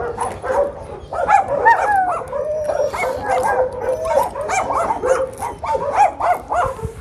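A dog named Simba barks in short, close yips and whimpers, with whining cries running almost continuously and rising in bursts, loud and near.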